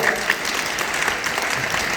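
A room of students claps loudly and energetically, a dense, even burst of applause that fills the whole moment.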